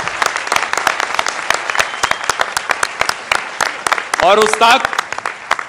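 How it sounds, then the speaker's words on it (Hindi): An audience at an Amrit Ratna 2023 awards event claps in sharp, scattered bursts that build into brisk applause, while someone speaks briefly over the clapping partway through. "अब ताली बजा के बताइए"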